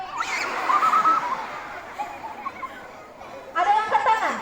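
A person imitates a goat's bleat to children in a storytelling icebreaker, two wavering bleats separated by a pause, loud and close, with children chattering in the background.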